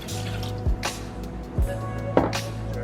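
Water poured into a homemade sweet chili sauce mixture that also holds vinegar, garlic and soy sauce, giving a few brief splashing, dripping bursts over a steady low hum, close and fairly quiet.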